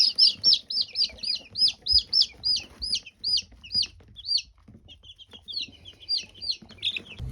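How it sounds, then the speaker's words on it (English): Seventeen young chickens kept in a bedroom cheep in rapid, high-pitched repeated peeps, a close and busy stream of chirping with short pauses and no talking. "So we got 17 chickens in the bedroom right now."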